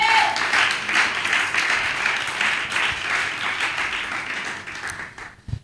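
Church congregation applauding and acclaiming during a sermon, a dense sustained wash of clapping with mingled crowd voices, fairly loud and continuous before tapering off at the end.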